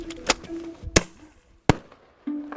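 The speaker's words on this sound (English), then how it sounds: "It's just like a firecracker, a big firecracker." Sharp firecracker-like bangs, likely from a wolf-deterrent device in Colorado, three loud cracks spaced irregularly against a quiet background with a faint tonal hum between them.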